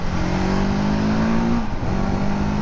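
A 300cc motorcycle engine revs at high RPM, a loud, sustained droning whine holding steady pitch, then dipping briefly before settling again, with no talking.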